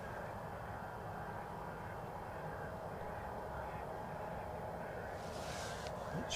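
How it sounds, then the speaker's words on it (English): A jet engine spools up at Edinburgh Airport, a steady broad rumble with a rising roar that holds continuously throughout, heard from some distance with a brief higher hiss near the end. "Hear the sound of an engine picking up."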